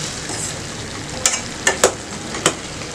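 Eggplant chutney sizzles in a pan with a steady frying hiss, broken by several sharp, close scrapes of stirring.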